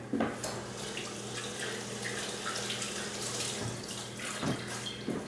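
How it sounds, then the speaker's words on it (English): Tap water running steadily into a sink while hands are washed, a continuous close splashing rush with small shifts as the flow is disturbed, no voices. "I'm going to wash my hands real quick"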